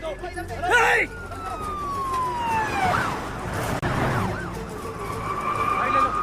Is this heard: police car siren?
yes